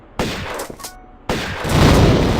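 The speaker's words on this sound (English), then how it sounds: "with shotgun ready, let's go take out this mummy" Shotgun blasts aimed at a mummy in Tomb Raider: two sharp, loud reports a second apart, then a heavier, sustained roaring burst, with no talking.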